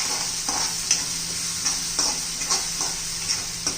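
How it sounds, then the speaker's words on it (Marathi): Green chili, garlic-ginger paste and coconut sizzle softly in a pan, broken by a series of spoon scrapes and stirring clicks spaced about every half second. "छान असं परतून घ्यायचे आपल्याला."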